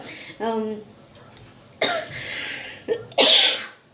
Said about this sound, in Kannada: ಕೋಲ್ಡ್ ಥರ ಫೀಲ್ ಆಗ್ತಾ ಇದೆ ಆ್ಯಂಡ್ ಕೆಮ್ಮು ಜಾಸ್ತಿ ಬರ್ತಾ ಇದೆ